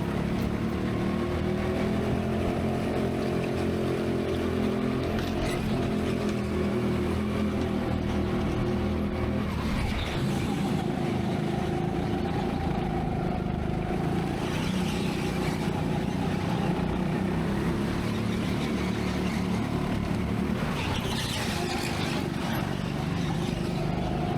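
Petrol racing karts circling a track at a local final in Birmingham, a continuous buzzing engine drone from a close onboard kart with other karts rising and fading around it, steady and loud throughout.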